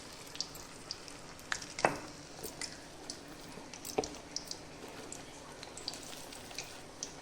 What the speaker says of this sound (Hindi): और इसके बाद हम इसे अब दोबारा से अपने तेल के अंदर डीप फ्राई करेंगे